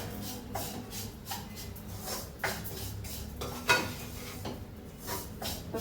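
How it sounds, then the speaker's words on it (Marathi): A spoon scrapes and clinks against a pot as a sugar and coconut mixture for coconut ladoos is stirred, with scattered knocks and metallic taps at an uneven pace, close by and without talk. "तर साखर छान आपली मिक्स करून घ्यायची."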